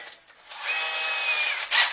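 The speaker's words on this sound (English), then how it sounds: "we're just going to drill use a spade bit." A power drill with a spade bit whirs steadily into a bucket for over a second, its pitch holding as it bores, then cuts off with a short burst of noise.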